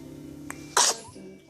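A single sharp sneeze, loud and close, bursting out in a quick explosive blast after a brief inhaled catch, over a quiet room background.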